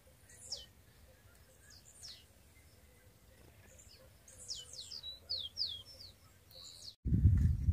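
A rufous-collared sparrow sings outdoors near a fence post, repeating short bright whistled phrases at moderate distance over a faint background hum, ending in an abrupt loud rustle.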